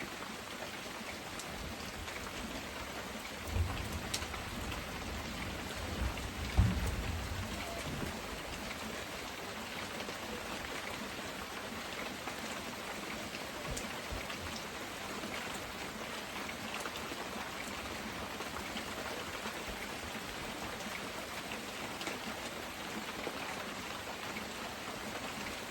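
A steady rain storm hisses evenly for the whole stretch, fairly faint and distant, with a couple of brief low thumps standing out early on.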